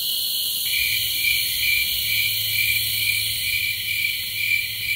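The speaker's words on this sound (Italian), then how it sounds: "Vedete, i suoni delle cicale sono molto particolari e le frequenze predominanti variano abbastanza." Cicadas singing outdoors in a steady, loud, continuous high-pitched drone that holds without pause, with a second layered buzzing band joining shortly after the start.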